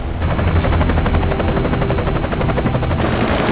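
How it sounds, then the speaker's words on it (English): Helicopters in the video game Metal Gear Solid 4 during a military assault, a loud continuous rotor chop with steady rhythmic blade thumping throughout, joined by a higher mechanical whine near the end. "They got helicopters,"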